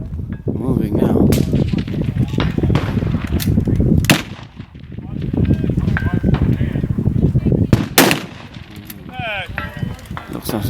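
A shooter fires a timed string of about ten rounds at targets within ninety seconds, sharp cracks landing at irregular intervals under near-constant conversational talk.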